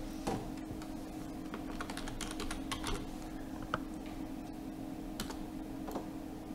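Text is typed on a computer keyboard in an irregular stream of soft, close key clicks with small pauses, quiet against a steady low electrical hum.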